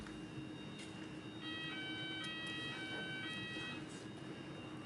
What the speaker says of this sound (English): I was told there wouldn't be a fire alarm today.